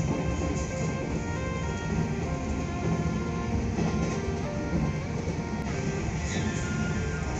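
Train ride in Japan heard from inside the carriage, a continuous loud rumble with faint rhythmic clatter running steadily throughout, no voices.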